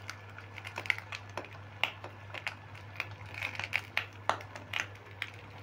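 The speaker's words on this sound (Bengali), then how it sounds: "এবার পাতাগুলো একটু মুড়িয়ে মুড়িয়ে দেবো।" Banana leaves folded and crinkled around an egg and potato paturi filling, giving soft, irregular crackles and rustles close by over a faint steady hum, with no talking.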